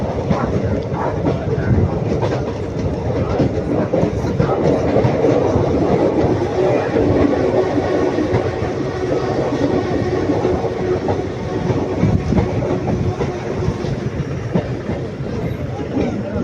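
A train rumbles steadily past on the rails at Palani Junction, India, a continuous loud roar with clattering wheels and no pauses.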